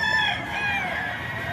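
A rooster crows once in a long drawn-out call that fades over its whole length, close and fairly loud, with soft background noise and no talk.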